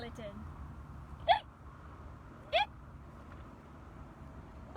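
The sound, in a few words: voice imitating hiccups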